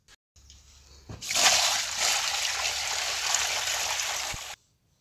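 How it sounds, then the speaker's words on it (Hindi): Water is poured through a cloth-covered sieve into a drum at a mushroom farm, a steady splashing gush that starts with a thump, runs for about three seconds and then stops abruptly. "ड्रम के ऊपर छलनी और कपड़ा लगा दिया है अब हम पानी डाल रहे हैं"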